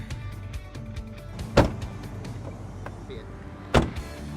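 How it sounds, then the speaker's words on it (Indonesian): A new budget car's door is shut twice, each a short, fairly muted thud a couple of seconds apart, with faint background noise between the closes. "Meski emang pas nutup suaranya agak kurang sih ya kayak gini"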